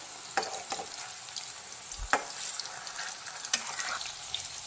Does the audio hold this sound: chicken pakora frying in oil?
yes